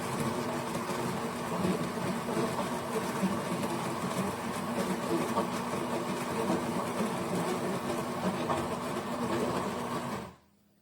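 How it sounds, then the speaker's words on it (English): A KitchenAid semi-automatic espresso machine's built-in burr grinder grinds coffee beans with a steady, even whirring hum for about ten seconds, then cuts off abruptly into silence. "you'll see it's very quiet when it grinds"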